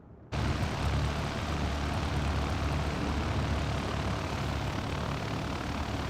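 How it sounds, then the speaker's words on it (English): A Buffalo Airways DC-3 taxiing in Microsoft Flight Simulator 2020 gives a steady, loud piston-propeller engine drone that starts abruptly and holds an even rumble throughout, with no talking. "That looks like a Buffalo Airways DC-3 to me."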